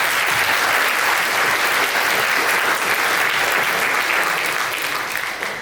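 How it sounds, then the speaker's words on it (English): An audience at a panel question-and-answer session applauds steadily and loudly for the full length, a dense wash of clapping that fades slightly toward the end. "Give him a round of applause."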